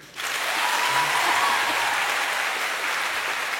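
A large theatre crowd of about 600 at a comedy show applauds loudly and steadily, sustained clapping filling the hall from start to finish with a faint voice briefly audible early on.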